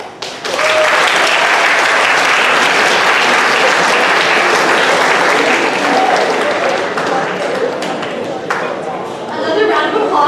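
Loud, sustained audience applause with some cheering fills a school spoken word showcase for grades 9 to 12, holding steady for most of the stretch before thinning near the end.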